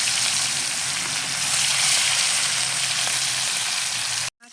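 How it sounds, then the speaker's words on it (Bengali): Katla fish pieces rubbed with salt and turmeric frying in hot oil, a loud, dense, continuous sizzle held close for over four seconds before stopping abruptly. "লবণ হলুদ মেখে রেখেছিলাম এখন মাছটাকে ভেজে নিচ্ছি"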